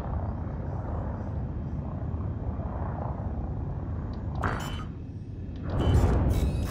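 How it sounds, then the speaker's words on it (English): Frame shift drive charging aboard a spaceship in Elite Dangerous, a low steady rumbling hum building, then rising into a louder surge near the end with brief mechanical clicks. "Frameship drive charging."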